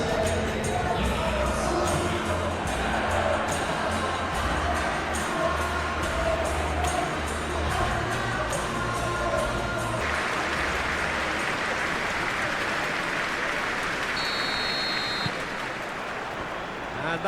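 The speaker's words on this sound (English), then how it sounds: "A capacity crowd here." A capacity stadium crowd in eFootball PES, Manchester City vs Fulham in the Premier League, roars and applauds in a dense, sustained wash while a commentator talks over it throughout.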